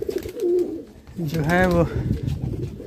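Pigeons coo at the open outer door of a loft, a rising and falling call standing out briefly in the middle while someone talks over the sound before and after.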